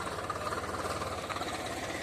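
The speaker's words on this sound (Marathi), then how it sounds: "बघा, हा आहे पिंटू दादाचा ट्रॅक्टर" Pintu's tractor runs on a farm field during the wheat harvest, giving a steady, continuous engine drone with a low rumbling throb that never lets up across the stretch.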